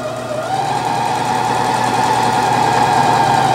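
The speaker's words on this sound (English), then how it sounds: "Here I've got 8-ply of denim, and I'm going to sew through down to a piece of cotton" A Janome C30 sewing machine stitching through eight layers of denim down to cotton, producing a loud, steady motor whir with a sustained hum throughout and no talking.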